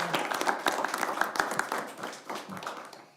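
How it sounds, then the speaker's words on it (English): An audience at a candidates' night applauds the youth moderators, a short burst of scattered, fairly close claps that thins out after about three seconds. "I just want to give them a round of applause tonight for being such awesome moderators"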